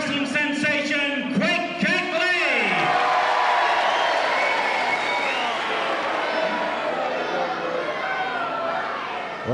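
A wrestling crowd at Walthamstow roars and cheers throughout, a dense wall of voices and shouts; a ringside announcer's voice rises and falls over the start before the crowd noise swells and dominates.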